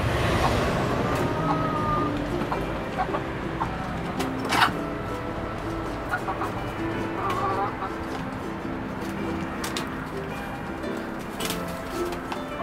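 A rooster among hens gives occasional clucks and calls at moderate distance over a noisy outdoor background, with a few sharp knocks and clatters.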